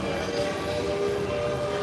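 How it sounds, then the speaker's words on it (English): A ferry boat horn sounds a long, steady low blast, droning on without a break, slightly distant. "That was probably the ferry boat."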